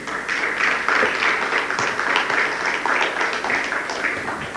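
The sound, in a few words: audience applause for His Excellency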